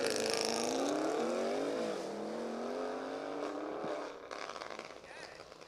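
A Porsche 911 Turbo and an Audi S6 accelerate hard in a spectator drag race at a drift pit, engines roaring and rising in pitch, then receding into distant crowd noise with people talking.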